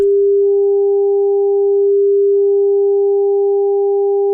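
A steady pure tone sounds throughout, joined by a second pure tone an octave higher that drops out briefly midway and returns, clean and electronic.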